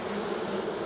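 A steady, dense buzz comes from many bees inside an open beehive during winter preparation, close and continuous for the whole moment.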